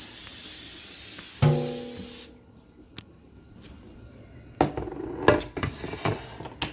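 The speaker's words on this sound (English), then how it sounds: "we're going to spray our 13 by 9 with some cooking spray" A steady cooking-spray aerosol hiss coats a 13 by 9 metal baking pan for about two seconds, then stops, followed by a few light clinks and taps of the pan.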